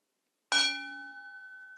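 A single meditation bell struck once in a quiet meditation session, with a bright clear strike that rings on in a long, steady, slowly fading tone.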